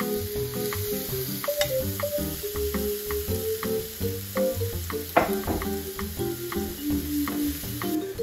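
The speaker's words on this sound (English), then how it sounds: "Hear that sizzling." Oil sizzles and crackles steadily in a hot pan while jackfruit cooks for BBQ pulled jackfruit, a continuous frying hiss with small pops and light clinks throughout.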